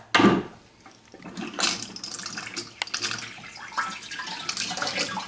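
Lukewarm water runs and splashes through colonic chair tubing after a clamp is released, a gurgling, rushing flow with a sharp clack at the start, close and moderately loud.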